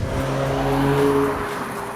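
An Audi TT coupe drives along a narrow, greasy monsoon-season road near Ratnagiri, its engine holding a steady, droning tone close by before easing off toward the end.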